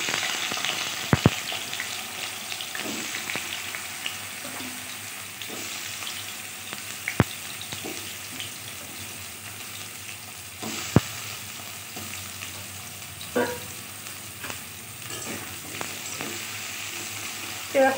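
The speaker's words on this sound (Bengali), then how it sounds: "এবার আমি কচুগুলোকেও ঠিক এইভাবে একই রকমভাবে ভেজে তুলে নেব।" Taro pieces fry in hot oil for a mang kochu vegetarian curry, giving a steady, close sizzle throughout with a few sharp utensil knocks and scrapes now and then, with no talk.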